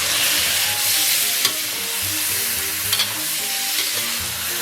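Pork belly stir-fried with spices in a wok, cooked for an Inner Mongolian pork belly and sauerkraut stew, fills the clip with a steady close sizzle and repeated scraping clinks of the spatula, with no voices.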